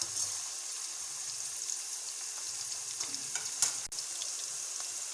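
Chopped vegetables for a Spanish omelette fry quietly in a pan, a soft continuous sizzle with a few faint stirring taps and one brief clack.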